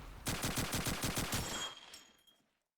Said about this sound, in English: His shots are rattling off there through the smoke.